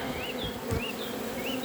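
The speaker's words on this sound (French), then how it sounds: "il y a trop d'abeilles" Honeybees buzz around a hive frame during an inspection, a steady close drone with individual bees whining past, alone without talk.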